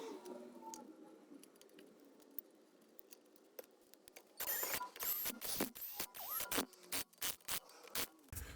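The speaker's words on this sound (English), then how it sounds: "now we're gonna put back the wheel" A rear wheel refitted on a 2015-2021 Kia Sedona after a brake pad and rotor job: quiet ticking at first, then a run of sharp, close metallic clanks and clicks in irregular bursts.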